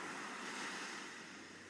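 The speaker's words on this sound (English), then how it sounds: "You begin to feel the lapping of the warm waves" Warm ocean waves washing onto a beach as a steady, soft broadband wash of surf, faint and continuous with no voices.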